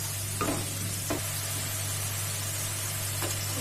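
Cauliflower florets deep-frying in hot oil for Gobhi Manchurian, a steady close hiss of sizzling broken by a few soft scrapes as the pieces are stirred, with no talking.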